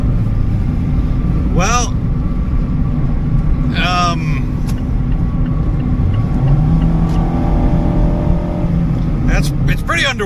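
A Mazda Miata RF rental car accelerates onto the freeway with a loud, steady engine and road rumble whose pitch rises partway through, while someone talks over it.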